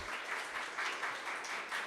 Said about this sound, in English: give yourselves and each other a round of applause too